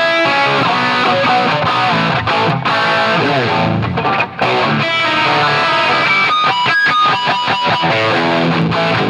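Heavily distorted electric guitar played through a DiMarzio Super Distortion bridge pickup on old, long-unchanged strings, loud and continuous with sustained chords and quicker picked riffs, a brief dropout midway and no voices.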